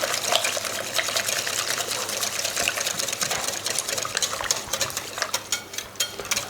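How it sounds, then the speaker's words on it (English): A whisk beats foaming, nutty browned butter into pancake batter, a fast continuous wet rattling and scraping against the bowl, close and fairly loud, with no speech. "all we're going to do is just whisk that into our batter"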